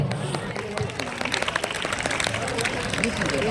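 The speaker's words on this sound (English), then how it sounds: "Please give a huge round of applause." Applause from a school audience at a Republic Day event after a performance, scattered claps mixed with crowd noise and a voice over the top, moderately loud and close.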